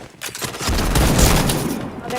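Counter-Strike gunfire from a video game: a burst of rapid shots with booming low-end impacts builds after a brief quiet start, dense and loud for about a second and a half before tapering off.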